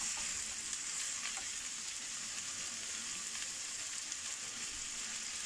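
Onion fries in a pan with a steady, even sizzle, close and continuous, with no talking.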